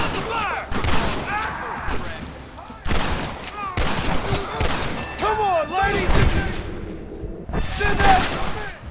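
Bursts of gunfire and explosions in the video game Red Dead Redemption during a fight at a gate, loud repeated volleys with gaps between them, while characters shout over the shooting.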